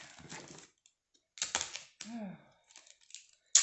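Tape pulled and pressed while wrapping an outdoor Christmas gift box decoration, a few quick close rips and crackles separated by short pauses.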